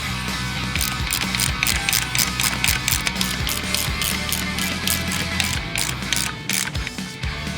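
Ratchet or tool clicking steadily while nuts are run down evenly onto spindle studs during a steering knuckle replacement, a continuous busy mechanical rattle at close range with no talking.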